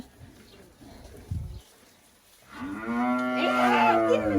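A young heifer on a Thai farm gives a long, loud, drawn-out moo, close by, after a few seconds of quiet rustling.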